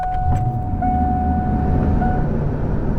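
A restored Ford LTD Crown Victoria drives along, a steady loud engine and road rumble from inside the car with a faint whine over it.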